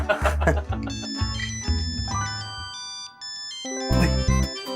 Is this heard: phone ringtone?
yes